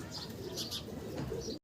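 Fancy pigeons in a loft coo and chirp quietly in the background, the sounds faint and mixed with soft rustling, and the clip cuts off abruptly at the end.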